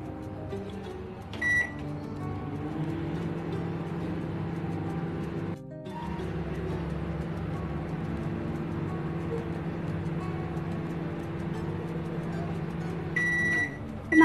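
Microwave oven running while baking an eggless chocolate cake, a steady low hum that drones on for about fourteen seconds, broken by a short gap near the middle and bracketed by brief beeps near the start and end.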